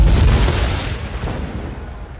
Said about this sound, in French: Wanda essaie de contenir l'explosion en l'envoyant dans les airs